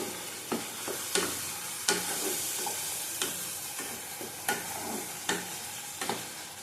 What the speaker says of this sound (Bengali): কাশ্মীরি লঙ্কার গুঁড়ো দিলাম, আবার ভালো করে কষিয়ে নেব।